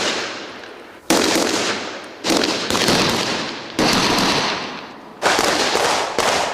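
Loud bursts of gunfire crack out during a military combat exercise, several sustained volleys of roughly a second each with brief gaps between them, close and harsh with no talk.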